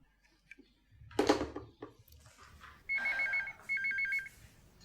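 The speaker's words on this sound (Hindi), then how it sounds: "ओफो, अब किसका फोन आ गया?" A telephone bell rings in two steady electronic bursts inside a home, following a short clatter and under a low background murmur.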